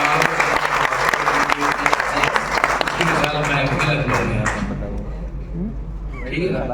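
Audience applause at a mushaira poetry gathering in Lucknow, a dense burst of many hands clapping loudly that thins out and fades over several seconds while voices murmur underneath.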